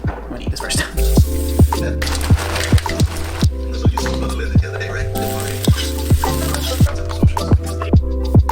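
Stir fry sizzling loudly in a hot pan, a steady frying hiss broken by sharp clinks and scrapes of stirring at a regular rhythm, close up.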